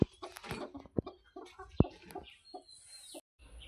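A brooding hen sitting on five eggs in a village coop gives soft, scattered clucks and low murmurs, close by, with a few sharp knocks between them.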